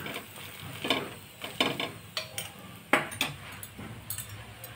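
Aloo paratha frying in oil on a pan, with soft sizzling under a string of scrapes and clinks from a spatula or utensil turning and spreading it, close and fairly quiet.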